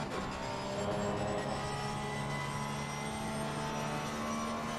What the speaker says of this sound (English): Listen to the fantastic engine sound of the Porsche.